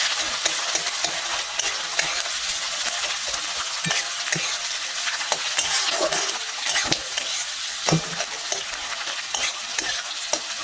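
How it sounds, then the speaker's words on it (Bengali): Chopped onions fry in hot oil in a wok, giving a steady, loud sizzle throughout, with frequent sharp scrapes and taps as they are stirred. "এরপরে দেখবো পেঁয়াজটা একটু ভাজা ভাজা হয়ে যাক"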